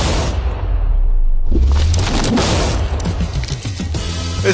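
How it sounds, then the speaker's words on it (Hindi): A steel safe blown apart by TNT: one big booming blast with a deep low rumble and debris hiss that rolls on for several seconds, loud and close. "इस धमाके ने सच में मुझे डरा दिया।"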